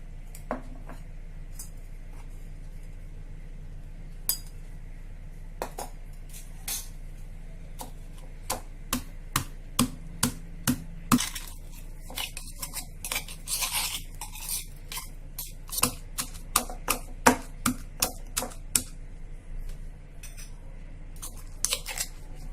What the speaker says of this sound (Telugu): ఇదే విధంగా అన్ని చింతకాయలను దంచుకుందాం.